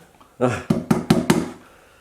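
A hammer drives a nail into a wooden trunk by hand, four sharp knocks landing about every fifth of a second, close and loud, with ringing decay after each blow.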